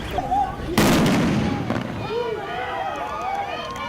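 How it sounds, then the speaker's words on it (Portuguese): Fireworks and police stun grenades going off during a clash over the eviction of an occupied area, with one loud, sharp blast followed by crackling and scattered pops, under shouting voices from a crowd. "Os invasores revidavam com fogos de artifício. A resposta vinha com mais bombas de efeito moral e balas de borracha."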